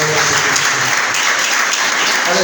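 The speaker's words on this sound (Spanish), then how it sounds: "Es un aplauso de gloria y honra a nuestro Señor" A church congregation applauds in praise, dense sustained clapping filling the room loudly and evenly, with a voice faintly audible underneath.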